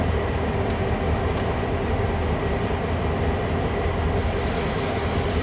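A train rolls forward in the simulation game Train Sim World, giving a steady, loud rumble of wheels and engine throughout, with faint high squeaks and ticks above the drone.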